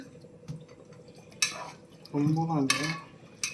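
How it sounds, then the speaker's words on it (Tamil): A spoon stirs food in a cooking pot at home with a spicy Tamil-style dish, scraping and clinking metal in short bursts, with a stretch of wet scraping near the middle. "கலந்து கொடு."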